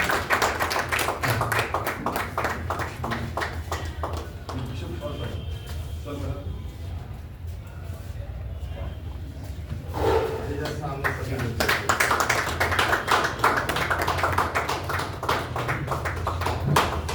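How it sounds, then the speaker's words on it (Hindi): An audience applauds at a Hindi award ceremony with dense, rapid clapping that fades in the middle and then swells again, continuing for most of the stretch with a voice speaking over it. "बहुत अच्छी तालियां बजा दीजिए आप लोग।"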